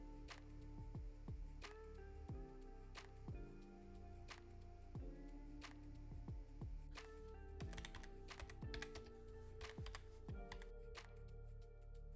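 Login username and password typed on a computer keyboard, a steady run of quiet key clicks with a few heavier keystrokes, close and continuous, with no talking.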